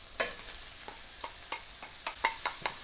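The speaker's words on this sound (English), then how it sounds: "So what I'm going to do is add in the ground meat." Ground meat added to a skillet of softened onions, giving a series of short scraping stir strokes and light sizzles at a steady, close rhythm with no talking.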